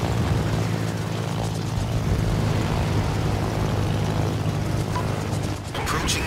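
Aircraft droning steadily through a naval battle video game, a loud continuous propeller hum with a constant low tone that persists throughout, with talk in the background.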